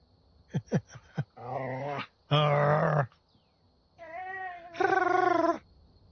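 A puppy growls and snarls in several bursts, some short and some drawn out into rising whines, loud and close in a quiet room.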